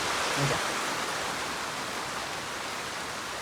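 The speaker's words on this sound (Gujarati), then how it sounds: "બહુ હેવી વરસાદ પડે છે" Heavy rain falls on a farm, a uniform, dense hiss of downpour that stays steady and close, with a brief low thump near the start.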